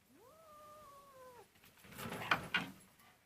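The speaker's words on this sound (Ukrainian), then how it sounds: "Я вам покажу породистого котика." Purebred pet cat at home, heard with a single drawn-out meow that rises and then holds steady, followed by brief rustling and shuffling nearby. No talking.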